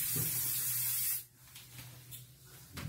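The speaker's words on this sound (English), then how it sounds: "And we spray." A close aerosol spray of Scotchgard hisses steadily onto furniture from about six inches away for just over a second, then cuts off, leaving quiet room tone and soft rustling.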